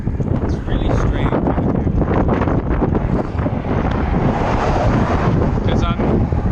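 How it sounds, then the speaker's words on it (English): Strong wind on an open, treeless stretch of road while bikepacking across Texas buffets the microphone in a loud, continuous roar with gusty surges. "Because there's no trees blocking the wind now, I definitely feel it."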